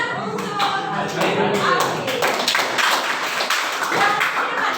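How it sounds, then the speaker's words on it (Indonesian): A classroom of students applauds a classmate, a burst of scattered hand claps lasting several seconds, with voices mixed in. "tepuk tangan untuk Alfi."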